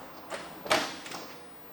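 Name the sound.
opening driver's side door of 1968 Ford Mustang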